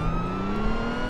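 A Lamborghini in the Roblox game ERLC gives a brief, steady engine hum at moderate loudness, alone, with no talking.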